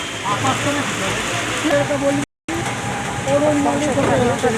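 Heavy rain pours steadily over an outdoor vegetable market where sellers sit in the downpour. The dense hiss is unbroken apart from a brief dropout, and voices talk over the rain.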